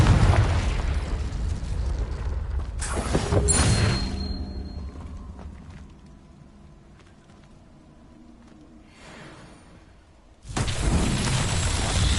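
Confringo explosive spell blast in the Hogwarts video game, two loud bursts with a quieter stretch between them, then a third heavy blast near the end, with no one speaking.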